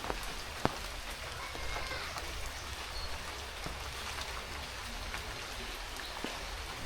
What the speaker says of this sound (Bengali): তো 2 দিন ধরে বৃষ্টি নাম্বার লাগছে প্রচুর, এত বৃষ্টি ঘরে থেকে বাইরে যায় না কোনো জায়গায় থেকে।